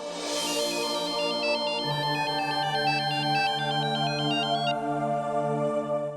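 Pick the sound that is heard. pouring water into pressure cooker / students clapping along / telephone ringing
telephone ringing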